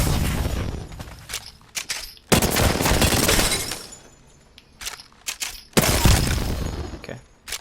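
R9 rifle fired from the hip in a video game, with no magazine, stock or stabilizer attached. Loud rapid bursts of gunshots come in several clusters, separated by short gaps with faint clicks and trailing noise.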